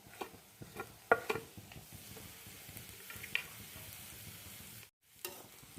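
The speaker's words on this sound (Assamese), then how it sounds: "এতিয়া অলপ টাইম ভাজি কৰি থাকিম।" Ground spices with coriander powder, garam masala and turmeric fry in a pan for a rohu fish and cauliflower curry, a soft, quiet sizzle with a few sharp stirring clicks and a brief gap near the end.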